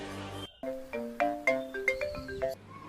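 A short melodic phone ringtone chimes clearly as the boss calls, a bright tune of spaced notes after a brief bit of talk.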